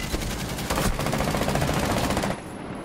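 Rapid automatic gunfire in a first-person shooter video game, a dense, loud burst of fast shots lasting about two seconds before cutting off abruptly.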